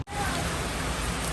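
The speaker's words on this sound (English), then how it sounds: "The rain drizzling more harder." Rain drizzling ever harder in Guyana during heavy winds, a dense, steady hiss of falling drops that starts abruptly and holds loud and even throughout.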